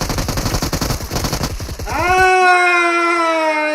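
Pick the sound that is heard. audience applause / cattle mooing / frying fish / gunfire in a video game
gunfire in a video game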